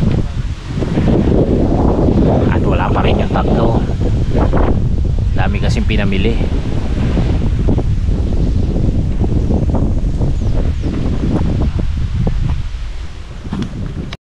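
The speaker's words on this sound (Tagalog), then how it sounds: "Lakas na ng hangin." Strong wind buffets the microphone throughout with a steady roar and rustle, while people talk over it in Tagalog.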